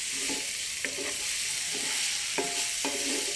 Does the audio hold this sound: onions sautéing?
yes